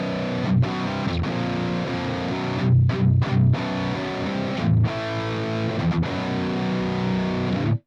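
A heavily distorted electric guitar is played through a Peavey 5150 amp model on a Fractal FM9, giving loud, aggressive chugging chords with short palm-muted stops and brief silences between riffs.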